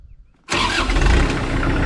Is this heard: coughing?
no